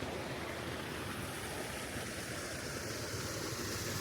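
Clear water flowing through the rice terraces of Sapa, Vietnam, a steady close rush and babble that continues unbroken and fills the whole stretch with no voices.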